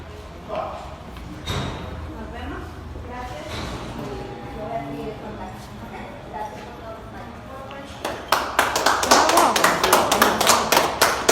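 An audience at a public gathering bursts into applause after a stretch of talking, a dense, fairly loud run of claps that continues to the end.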